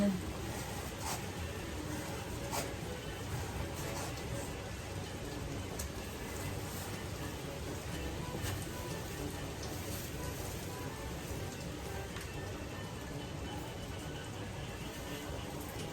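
Heavy rain pouring down in a dense, even hiss that stays steady throughout, fairly faint and without breaks.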